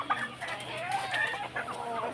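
Chickens being fed grain, with soft clucks and short calls repeating through the clip at moderate distance over a steady background hum.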